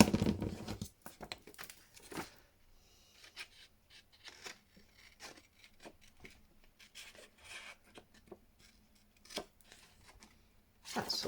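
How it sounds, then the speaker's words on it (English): Scissors snipping and rasping through paper and card while shaping a rounded edge on a grungy soft spine for a junk journal, with intermittent close cuts and rustles between quiet pauses. "I wonder if I can do that with the scissors."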